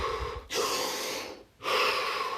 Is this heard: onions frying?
no